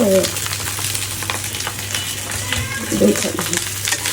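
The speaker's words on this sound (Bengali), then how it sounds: "ভাত যে কটা আছে সবগুলো ভেজে দিই" Leftover rice frying in a pan in a home kitchen, with a steady hiss and crackle throughout, a low hum beneath it, and brief bursts of voice or clatter near the start and again around three seconds.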